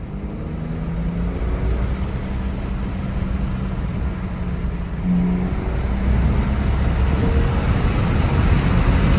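A BMW F10 with an N55 turbo engine, an aftermarket intake and a catless downpipe drives along, heard from inside as a steady, loud, deep engine drone with road roar. The drone rises slightly in the second half.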